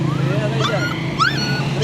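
Dogs for sale, askal (Filipino native dogs), whimpering and yipping in short rising cries over a steady low hum and background chatter.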